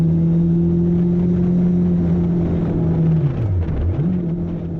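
A Honda CB1 motorcycle riding a road in Telemark, Norway, with a steady engine drone and a clear pitch dip near the end as the rider eases off and picks the throttle back up, loud and close throughout.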